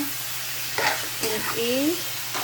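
Chicken sautéing for adobo in a home kitchen pan, a soft steady sizzle with brief stirring scrapes and clinks, fairly quiet and close, with no talk.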